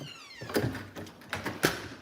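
A house door swinging shut in a quiet room, with a few soft thunks and a final firmer knock of the latch, and a faint whine at the start.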